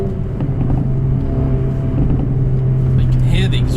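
A 2020 Mercedes-AMG CLA 35 exhaust rumbles in a loud, steady, deep drone, with a few faint crackles popping in toward the end.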